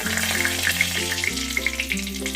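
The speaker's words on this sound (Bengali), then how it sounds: "চারটে এলাচ তিনটে লবঙ্গ আর দুটো দারচিনি ফোড়ন দিলাম গরম মশলা একটু ভাজা হবে" A bay leaf, four cardamom pods, three cloves and two cinnamon sticks fry in hot oil, making a bright, crackling sizzle over steady low droning tones.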